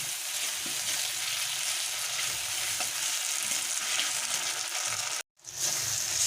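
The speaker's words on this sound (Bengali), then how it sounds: "আদা বাটা এক চামচ রসুন বাটা দিয়ে দিলাম এটাকে আমি দু মিনিট ভালো করে রান্না করে নেব" Ginger and garlic paste sizzles and fries in a pan, with a steady close crackle and occasional stirring, and one brief cut near the end.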